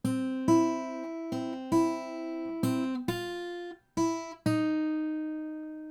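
A guitar plays the B section of a theme from Harry Potter as clear single plucked notes, about eight in an uneven melodic rhythm, each ringing and decaying, close and alone.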